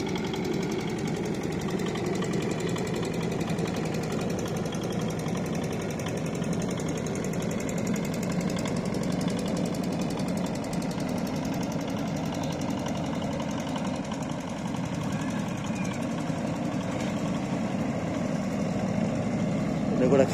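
A small passenger boat's motor runs on a river near a village fair, a steady, close, continuous mechanical drone with a rough chugging texture that never lets up.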